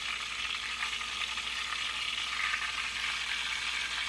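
Squirrel pieces fry in a pan, giving a dense, steady hiss of hot-fat sizzle that stays even and close throughout, with no voices.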